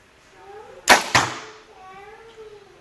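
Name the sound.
PSE Carbon Stealth 60 lb bow shooting a light arrow into a target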